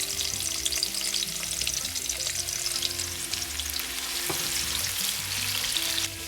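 Thinly sliced onions frying in hot vegetable oil, a continuous dense sizzle and crackle held at an even level close to the pan, with no talking.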